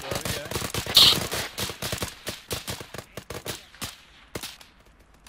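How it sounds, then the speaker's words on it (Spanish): Heavy gunfire from a base in a military video game, with sharp irregular bursts of shots cracking close by, dense at first and thinning out toward the end. "Estamos recibiendo fuego pesado de la posición de la base"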